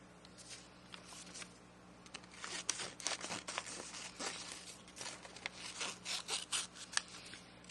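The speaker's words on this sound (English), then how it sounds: "we need to cut this out" Scissors snip and slice through paper for a pumpkin collage, producing quiet, close, irregular crisp cutting strokes that come in clusters, with a low steady hum in the background.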